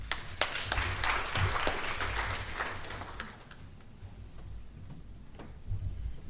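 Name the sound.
audience applause welcoming speaker Joel Levine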